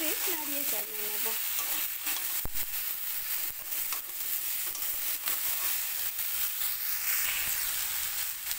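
Elephant-foot yam stalks mixed with spices sizzle steadily in a pan, a dense continuous frying hiss with occasional clinks and scrapes of a stirring utensil, close-up and fairly loud, no voices.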